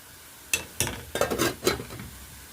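Onions frying and being stirred in a pan: soft sizzle under several distinct scraping and stirring strokes, close and brief, coming in a quick cluster, with no voices.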